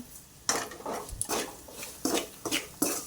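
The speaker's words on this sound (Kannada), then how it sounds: "ಆ ಪನ್ನೀರ್ ಹಾಕ್ಕೊಂಡು ಇದಕ್ಕೆ ಚೆನ್ನಾಗಿ ಫ್ರೈ ಮಾಡಿಕೊಳ್ರಿ" Paneer frying in curry in a pan brings a series of spatula scrapes and metallic clanks against the cookware, spaced irregularly, with a faint sizzle underneath.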